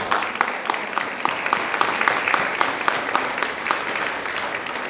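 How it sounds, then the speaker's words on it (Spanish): A church congregation claps loudly and continuously after a Spanish-language sermon, with a fast, irregular patter of many hands and faint rhythmic accents running through it. "Démosle palmas fuertes."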